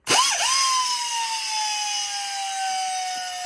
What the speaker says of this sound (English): Okay, now time for the deburring.